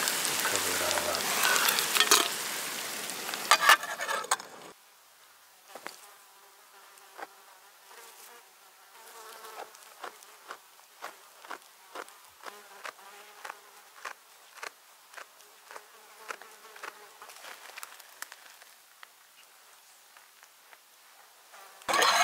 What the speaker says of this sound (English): these flies are buzzing around like crazy, but they're not really actually bothering me